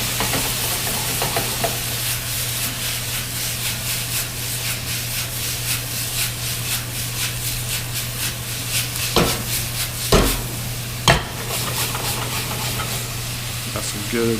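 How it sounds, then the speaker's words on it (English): Chicken and broccoli stir-frying in a wok with soy sauce, a loud continuous sizzle with a steady low hum behind it, broken by scraping stirs and a few sharp clacks of the utensil against the pan. "The soy sauce boils down on the outside of the wok"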